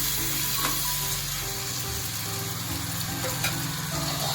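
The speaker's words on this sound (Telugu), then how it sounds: "ఇప్పుడు ఆనియన్స్, టొమాటోస్ ఇంకా గ్రీన్ చిల్లీ. సో ఈ విధంగా మనం దీన్ని బాగా ఫ్రై చేసుకున్నాం కదా." Onions, tomatoes and green chillies frying in a pan give off a steady, loud sizzle that runs unbroken from start to finish, close up, with no voices.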